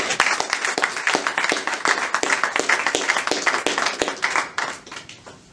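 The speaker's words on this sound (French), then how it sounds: "Est-ce qu'on peut applaudir?" A church congregation at a gospel service claps in a fairly regular rhythm, sharp individual hand claps standing out in the room before the clapping thins and fades near the end.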